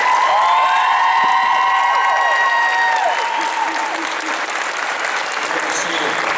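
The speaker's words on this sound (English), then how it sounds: "Would you please give them a big round of applause?" A large graduation audience gives faculty a big round of applause, a dense, continuous wash of clapping with some cheering and whistles rising over it early on.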